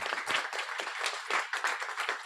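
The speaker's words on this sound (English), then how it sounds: "Please, a warm round of applause for David and Emily." An audience applauding at a guide dog graduation ceremony, dense crisp clapping from a sizable crowd that stays steady with small surges, close and fairly loud.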